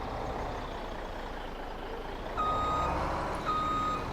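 A truck pulling a trailer in Farming Simulator 17 rumbles along, then two short bursts of high reversing beeps sound near the end over the steady engine noise.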